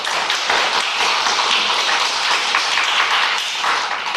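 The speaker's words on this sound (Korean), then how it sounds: "수고하신데 박수로 격려합니다." Congregation at a Sunday church service clapping in encouragement, a loud, dense, sustained patter of many hands filling the room evenly without pause.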